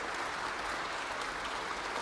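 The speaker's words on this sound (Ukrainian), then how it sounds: "Продолжительными аплодисментами депутаты и гости встретили членов Политбюро ЦК КПСС." Prolonged applause from deputies and guests at the opening session of the Supreme Soviet of the USSR, a dense, steady roar of many hands clapping at once filling the hall without a break.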